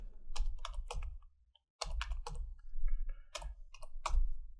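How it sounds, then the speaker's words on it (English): Bursts of clicking keys on a computer keyboard under Windows 11, typing a program file name in Notepad, coming in quick close clusters with a short pause midway. "I just type another program name, photoshop.exe"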